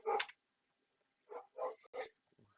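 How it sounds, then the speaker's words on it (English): A dog barking in four short, sharp bursts, one alone and then three quicker ones, heard at a distance and fairly faint against otherwise quiet surroundings. "And the dog is going crazy."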